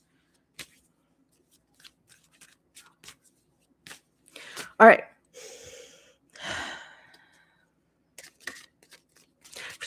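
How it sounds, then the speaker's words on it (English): Playing cards are shuffled by hand in short bursts of riffling and soft clicks between quiet pauses, with a brief spoken remark and some breathing. "I'm shuffling and shuffling and shuffling."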